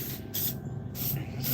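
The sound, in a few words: antiperspirant spray can spraying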